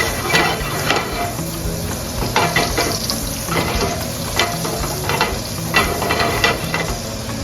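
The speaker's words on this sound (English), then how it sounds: "And then about a tablespoon of butter." A tablespoon of butter melting into olive oil in a pan, making a bright continuous sizzle that rises and falls, with loud crackly bursts all the way through and no voices.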